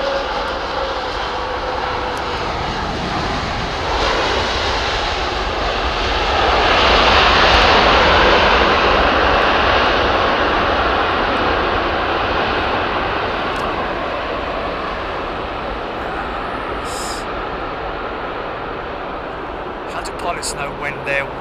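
Airliners arriving at an airport toward sunset: a steady, loud jet engine roar with a swelling pass in the middle, fading slowly afterward, while people talk over it.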